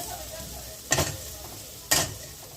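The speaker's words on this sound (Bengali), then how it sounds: "আমার মশলা কষানো হয়ে গেছে" Spice masala frying and being stirred in a pan for matar ghugni, a steady low sizzle broken by two sharp scraping stirs about a second apart, close and alone without talk.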